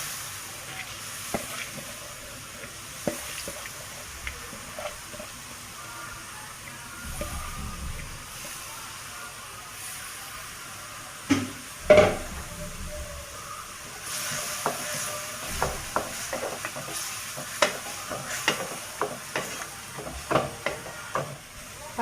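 Red lentils cook in water in a pan for a dry dal, a soft simmering hiss under irregular scrapes and taps of stirring, growing busier and more frequent toward the end.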